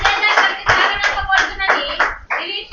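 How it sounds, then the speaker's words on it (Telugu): A church congregation claps hands together during a Telugu sermon, a dense burst of many overlapping claps in rough bursts, close and loud, with some voices mixed in. "చప్పట్లు కొట్టండి."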